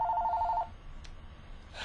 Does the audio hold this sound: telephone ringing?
yes